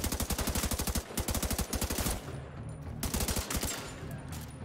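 Gunfire in The Division 2: loud, rapid automatic bursts of sharp shots in quick rhythm, a pause with a low rumble, then another shorter burst.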